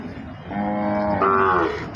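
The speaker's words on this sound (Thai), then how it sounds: "วัวหกเดือนกว่าพี่น้อง" Cattle at a livestock market moo in a long, loud, drawn-out call that rises in pitch midway, heard close and alone without talk.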